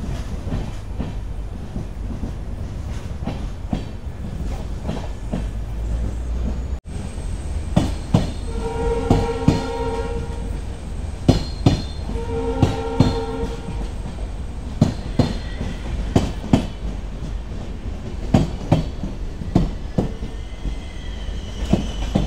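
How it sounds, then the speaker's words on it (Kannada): The Mysore–Talaguppa overnight express, train 16227, at a station platform: a steady rumble of rolling wagons with a sustained horn blast mid-way, then rhythmic wheel clatter and clanks continuing close by, with no voices. "ಇದು Mysuru Talaguppa overnight express train ಇದೆ"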